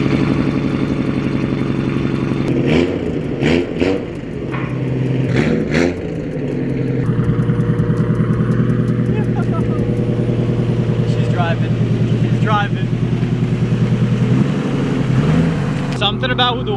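A Nissan Skyline GTR in a video game drives and revs. A steady engine drone rises and falls through gear changes, and someone talks over it much of the time.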